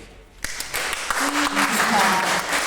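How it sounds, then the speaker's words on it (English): Audience clapping at a magazine event, starting abruptly and building into steady mixed applause, with faint voices audible beneath the claps. "Clap for us, please."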